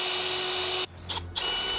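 A power drill bores a pilot hole, likely for a hidden 8-inch subwoofer build: a steady, loud motor whine that cuts out briefly, returns as a short burst, then runs on again.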